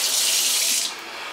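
Tap water runs steadily into a sink in a rented seaside apartment, a loud close hiss that drops slightly in level near the end as the flow eases, with no talking over it.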